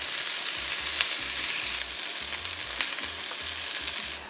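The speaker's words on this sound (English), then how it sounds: "Listen to that sizzle." Pork sears in lard in a hot pan, giving a steady, bright sizzle and crackle close up, with a few sharper pops and no talking.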